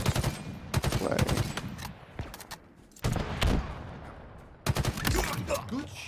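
Weapon fire in the shooter game Halo during an Oddball match, coming in loud, dense bursts separated by brief lulls, with voices reacting over the shots.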